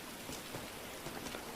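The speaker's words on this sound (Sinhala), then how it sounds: "මොකද කරන්නේ වැස්සකුත් ආවනේ බලපංකෝ" Steady rain pours down in GTA V, a dense, even hiss of falling water that continues without a break and with no voices over it.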